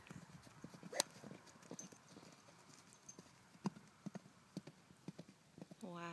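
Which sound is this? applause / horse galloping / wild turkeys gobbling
horse galloping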